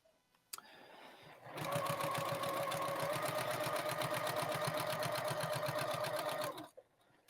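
Sewing machine stitching quilt binding in one steady run of about five seconds with a fast, even needle rhythm, close and alone, starting and stopping abruptly.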